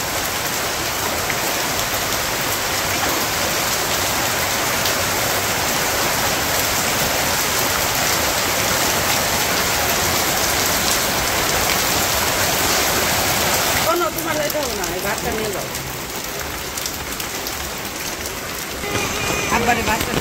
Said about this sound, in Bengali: এই যে জোরে বৃষ্টি নামছে।